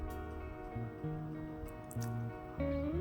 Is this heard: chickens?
no